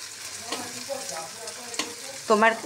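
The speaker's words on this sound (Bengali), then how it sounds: "চলো ভাজতে থাকি, একদম লাল হবে" Sliced snake gourd fries in a pan with a steady close sizzle and a few louder spits and stirring scrapes, ending in a brief burst of stronger crackle.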